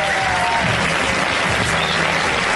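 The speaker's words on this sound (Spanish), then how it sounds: "el aplauso del estudio que sea para las cuatro" Steady roar of studio audience applause, dense and continuous clapping with crowd noise filling the space throughout, loud and even from start to finish.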